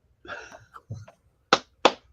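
Two crisp, close hand claps in quick succession, following a short stretch of speech.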